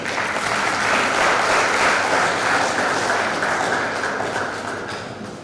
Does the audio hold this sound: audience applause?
yes